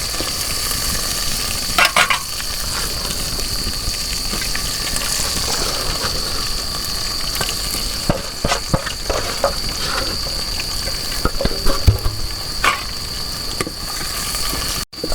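Chopped onions fry in a pan for village-style chicken biryani, giving a steady, close hiss and crackle throughout, broken by scattered scrapes and clinks of stirring and a few louder knocks.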